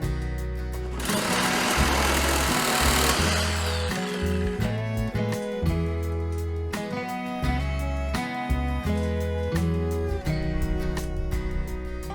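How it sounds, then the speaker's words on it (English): A jigsaw fitted with a metal blade cuts material to size while building a duck breeding pen, chattering in a fast mechanical rattle that stops and restarts in short bursts, loud and close throughout. "got my jigsaw with a metal blade on it, and I'm gonna have to trim this off"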